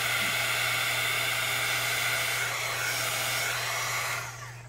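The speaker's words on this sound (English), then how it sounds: "These are noisy, but they don't blow things around like a hairdryer will. They just put out heat." Electric heat tool blowing steadily while drying watercolor paint, a loud continuous whooshing hiss with a low hum, running alone for several seconds before easing slightly at the end.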